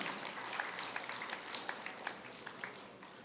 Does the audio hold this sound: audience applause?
yes